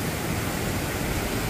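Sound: waterfall

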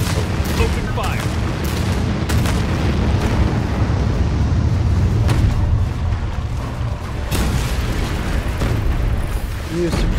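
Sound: nuclear missile launch and explosion in video game Anno 2205

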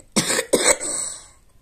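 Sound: cough after laughing

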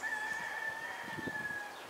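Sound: chickens and roosters clucking and crowing

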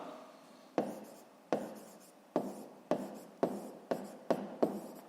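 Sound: writing on paper

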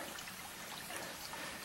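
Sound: water running downhill after rain

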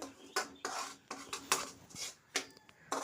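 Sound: moving roasted semolina from the pan onto a plate

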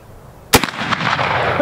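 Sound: rifle gunshot, .50-110 caliber

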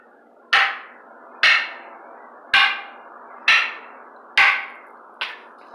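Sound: sticks striking a shield stick in Zulu stickfighting drill

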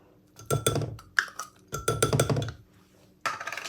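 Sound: pounding shrimp paste in a mortar for mango salad

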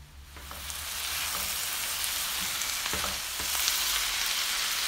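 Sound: tomatoes added to vegetables frying in a pan

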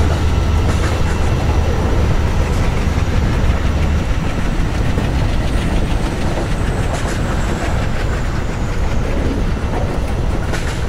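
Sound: train running on the Central Railway route in Train Simulator video game

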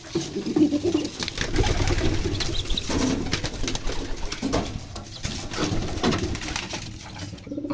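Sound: pigeons cooing, homing and domestic pigeons

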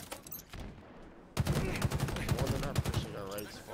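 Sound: sniper gunfire in a video game

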